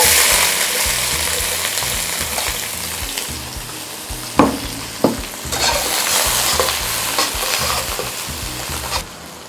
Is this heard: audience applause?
no